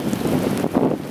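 Strong winter wind gusts hard against the microphone in a dense, rumbling roar that swells and dips over about a second, with no voices.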